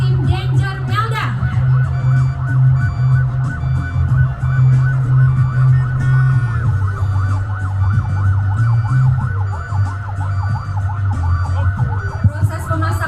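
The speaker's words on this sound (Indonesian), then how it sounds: "Saat ini ambulans sudah sampai di lokasi kejadian" A wailing ambulance siren sounds loud and continuous, with a rumbling engine underneath and voices talking, as the vehicle arrives at a simulated accident scene during an Indonesian workplace safety drill.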